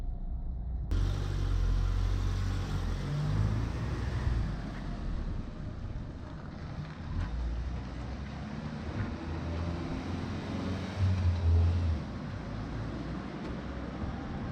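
Fiat Panda 2020 with a 1.2-litre four-cylinder naturally aspirated petrol engine driving over a rough, bumpy road: a steady low engine and cabin rumble holds throughout, with jolts and rattles and no voices.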